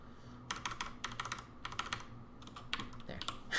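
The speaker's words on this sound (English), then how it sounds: "Oh, I can hear the keyboard." A computer keyboard is typed on nearby in quick, uneven bursts of clicky keystrokes, broken by short pauses, with no voices.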